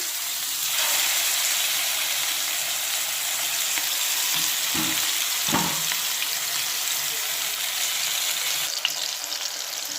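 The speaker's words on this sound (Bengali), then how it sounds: "এইভাবে দুটো দুটো করে মাছগুলো ভেজে নেব।" Pieces of boal fish, two at a time, frying in hot oil in a pan give a steady, close, continuous sizzle with a couple of soft clunks partway through and no talking.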